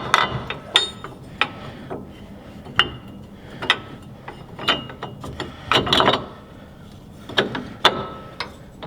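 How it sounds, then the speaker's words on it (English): A ratchet tightens the nuts on a Rago Fabrication shock guard plate on a Toyota Tacoma, giving close, sharp bursts of metallic clicking separated by short pauses as each nut is drawn down. "Put the nuts back on, and you're gonna go ahead and evenly tighten them."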